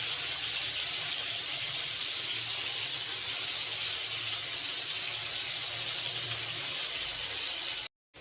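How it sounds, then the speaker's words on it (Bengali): Potatoes frying in a pan until reddish-brown make a steady, loud, close hissing sizzle that runs unbroken for about eight seconds and then cuts off abruptly, with no voices. "আলুটা লাল লাল করে ভাজা হয়ে গেছে"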